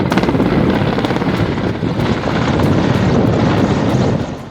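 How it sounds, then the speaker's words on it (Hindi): An Army MI-17 helicopter flies over a mountain forest fire while spraying water, its loud, steady rotor and engine roar mixed with heavy wind buffeting throughout. "सेना का MI-17 हेलीकॉप्टर लगातार पानी का छिड़काव कर आग बुझाने में लगा है"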